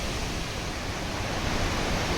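Water pours down Khandadhara waterfall in India with a constant, dense rushing roar that stays even and loud throughout, with no voices.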